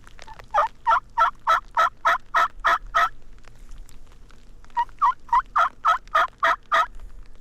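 Wild Merriam's turkey hens call in two fast bursts of sharp, repeated yelps, each run of about ten notes evenly spaced, clear and fairly close.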